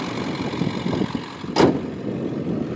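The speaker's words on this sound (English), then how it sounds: "And that has the Banks, I believe it's called the Monster exhaust on it." A 2002 Ford F250 with a 7.3 Powerstroke diesel fitted with a Banks Monster exhaust idles steadily at close range, a low continuous rumble with a brief louder burst midway.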